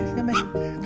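A Pomeranian dog gives a short, close whimpering yip, high and whiny, within less than a second, against a slight household background.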